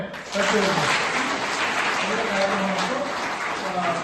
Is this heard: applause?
yes